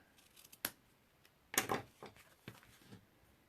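Scissors snip through material on a handmade easel card, with a few sharp, close cuts spaced out over a quiet background, one longer double snip in the middle.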